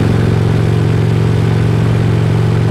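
A motorcycle cruising at 100 km/h gives a loud, steady engine drone, with constant wind rushing over a helmet-mounted wireless microphone covered by three windshields.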